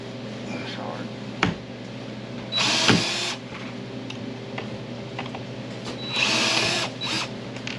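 A power drill backs screws out of ski bindings in two short bursts of whirring, each a couple of seconds long, separated by faint clicks and handling noises in a quiet room.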